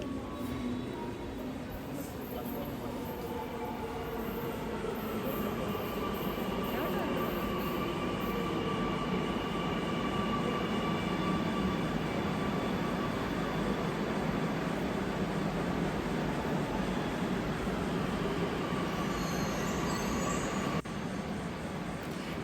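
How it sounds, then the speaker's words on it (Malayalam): A Kochi Metro train rumbles and whines steadily as it pulls into a station, a loud continuous mechanical drone with faint voices beneath. "നമ്മുടെ ട്രെയിൻ എത്തി"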